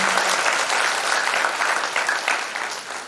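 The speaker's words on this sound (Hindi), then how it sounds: "ताली बजाइए अपने लिए" Audience applause at a youth retreat talk in Shantikunj, a dense steady wash of many hands clapping, fairly close and loud, fading slightly toward the end, with no voices.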